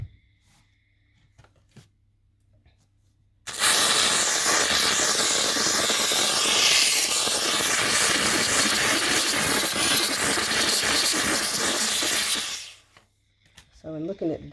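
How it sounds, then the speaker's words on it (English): A steam cleaner gives a loud, steady hiss close by for about nine seconds, starting abruptly and cutting off, with quiet stretches before and after, used over a rug laid on wood floors. "And then we're going to start with the steamer"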